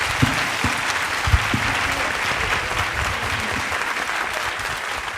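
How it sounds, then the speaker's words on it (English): An audience at a panel event claps in sustained, even applause, a dense continuous patter with a few louder nearby claps, filling the room. "Please, let's have a round of applause"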